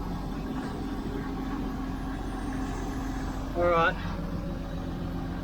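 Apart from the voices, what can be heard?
truck engine running while building air pressure to engage gear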